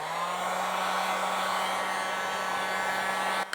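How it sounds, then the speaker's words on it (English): A heat gun on its lowest setting used to warm glued plastic parts of a solar DAB radio, a steady close whooshing blow with an even hum, cutting off with a click at the end. "So in the end I used a heat gun, and I just set it on the first setting"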